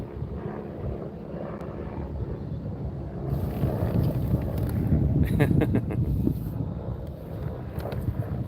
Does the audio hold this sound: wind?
yes